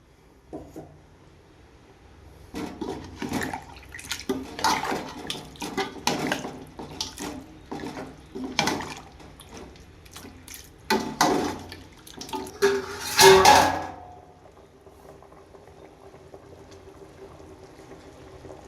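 Water gushes and splashes into a pot of broiler chicken curry in uneven bursts over several seconds, loudest just before it stops, leaving a quiet background.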